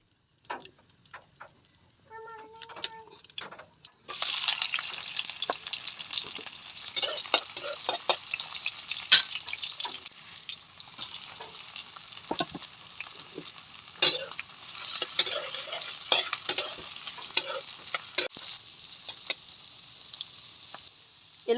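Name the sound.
sautéing onion, garlic and patola in pan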